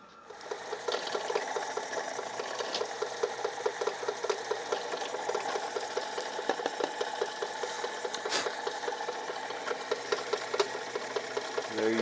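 A 5/16 inch counterbore bit cuts a shouldered recess into a knife handle scale for a skinner, giving a steady whirring drill drone with a rapid rasping chatter that runs through the whole stretch, close and fairly loud.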